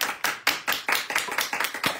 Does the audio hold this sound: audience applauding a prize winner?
yes